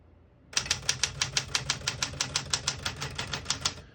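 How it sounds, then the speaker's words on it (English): A 1967 Smith-Corona Super Sterling portable typewriter types on single spacing, with a rapid, even run of about twenty sharp, close keystrokes after a brief quiet start. "We're going to keep it on single and finish typing."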